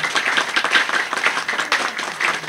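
An audience applauds at a gathering, with dense, continuous clapping of many hands, fairly close and even in loudness throughout.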